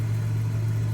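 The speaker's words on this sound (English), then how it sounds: "custom engine sounds mapped to the engine RPM" A Cessna 172 piston engine in a flight simulator hums at a steady drone, with a constant low tone and no voices.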